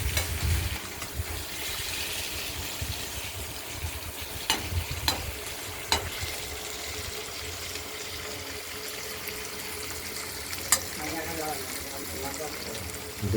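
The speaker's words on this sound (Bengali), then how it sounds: "এই আলু ভাজার সঙ্গে সঙ্গে আমরা কুচিয়ে রাখা টমেটোটাও দিয়ে দিলাম, এটাও আমরা ভেজে নেব।" Potatoes and chopped tomato frying together in a pan for a Bengali aloo dum, a steady close sizzle throughout with a few sharp stirring clicks and scrapes.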